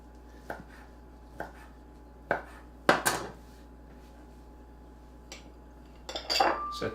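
A knife chops through cooked chicken breast on a cutting board, in a handful of sharp, separate knocks spread across the clip, closing with a busier cluster of cuts and clinks from utensils.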